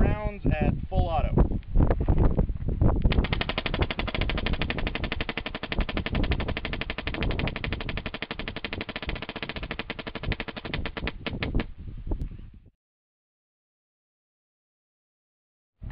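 A paintball gun fed by a Cheetah-boarded Halo loader fires 100 rounds on full auto. A dense, loud, unbroken stream of rapid pops lasts about twelve seconds and then stops dead, leaving silence.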